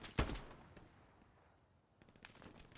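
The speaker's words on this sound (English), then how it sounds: "Machine gun suppressing the fuck out of me." Machine gun fire in Hell Let Loose opens with one loud, close burst, followed by a quieter stretch and a faint, rapid rattle of shots returning near the end.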